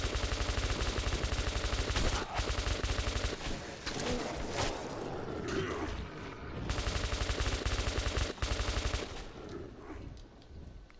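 Gunfire in the first-person shooter Metro 2033 Redux, set in underground metro tunnels: long loud bursts of automatic fire broken by short pauses, close and dominant throughout.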